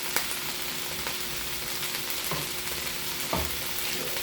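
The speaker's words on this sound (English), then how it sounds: "This is all nice and stirred." Garlic fries in a pan as it is stirred, a dense continuous sizzle close up with occasional scraping knocks from the utensil.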